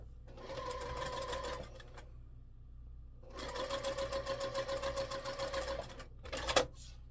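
A sewing machine stitching a quilt block: two rapid runs of close, rhythmic mechanical clatter, each a couple of seconds long, separated by a quiet pause. A short final burst follows near the end, over a low background hum.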